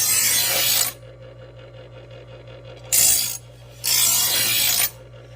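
An electric knife sharpener grinds a knife blade in three loud rasping passes of about a second each, separated by the steady hum of the motor running.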